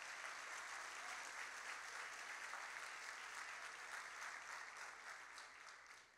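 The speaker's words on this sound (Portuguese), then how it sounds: "Pode aplaudir a Jesus." A church congregation applauding, a faint, distant, even wash of many hands clapping that holds steady and then fades slightly at the end.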